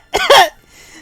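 A voice imitates a tabletop role-play character coughing after a fiery drink: two quick, rough vocal bursts up close, then fading into quiet.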